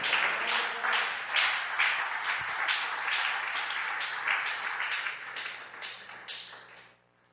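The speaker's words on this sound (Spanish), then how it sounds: "Démosle aplausos al Señor." A church congregation claps together in a sustained round of applause, steady and fairly loud, tapering off at the end.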